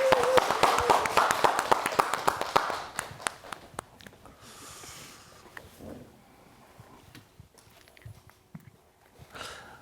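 Lecture audience clapping, a dense burst of applause for about three seconds that thins into sparse claps, then quiet room noise with faint movement.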